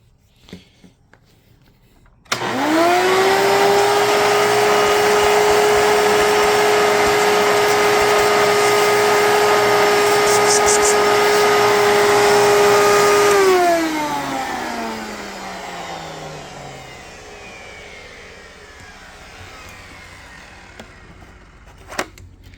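A Hoover Elite Supreme upright vacuum cleaner switches on abruptly and runs with a loud, steady high-pitched motor whine for about eleven seconds, then powers down in a long falling wind-down.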